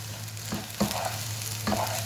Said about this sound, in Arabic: الرز كل ما قلبت الرز كويس مع بعضه كده يطلع مفلفل في الزيت